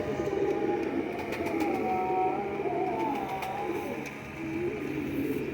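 Several Dab breed pigeons coo softly in low, rolling calls, close by, over a steady background hum.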